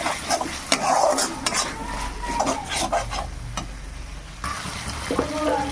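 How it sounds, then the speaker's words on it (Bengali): Garlic and ginger-garlic paste fry in a pan while being stirred, with repeated scraping and clinking strokes over a continuous sizzle and a low background hum. "রসুনটাকে একটু ভেজে নেবো"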